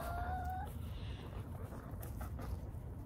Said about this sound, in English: chickens follow me everywhere I go